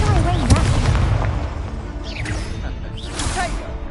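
Spell explosions and magical whooshes from the Hogwarts Legacy video game, several booming blasts and sweeping swishes in quick succession over continuous combat sound.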